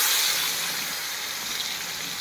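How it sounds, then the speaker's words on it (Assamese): Local fish fries in hot oil for a curry, a dense, even sizzling hiss heard close and fairly loud throughout, with no voices. "এই মাছ ফ্ৰাই কৰি আছোঁ"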